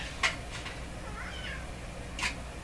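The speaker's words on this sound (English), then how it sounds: "Oh, I think I hear a cat." A cat meows faintly a few times in the background of a quiet room where an old Sparton five-tube radio is being repaired, with short high calls separated by pauses.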